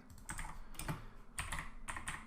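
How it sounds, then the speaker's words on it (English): Typing on a computer keyboard in a short run of quick, close keystrokes of moderate loudness, heard alone without talking. "And let's type next."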